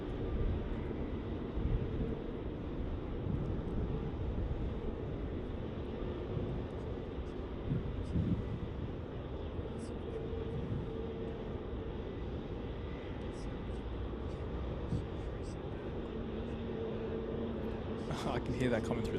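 A Qantas Boeing 737-800 arriving from Adelaide on final approach at Melbourne Airport makes a steady low jet rumble that builds toward the end, with someone talking over it throughout.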